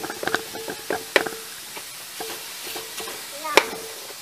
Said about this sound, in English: Chop that onion.